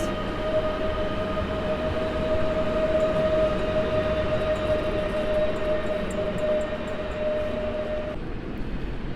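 EP07 1036 electric locomotive starting to move at Kraków Główny station, a steady loud hum with a sustained tonal whine that cuts off near the end, over continuous rumbling station noise.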